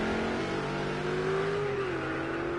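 Ferrari GT3 race car in a racing game rolling into the pits, its engine a steady mid-pitched drone that rises slightly and then eases off, moderately loud and even throughout.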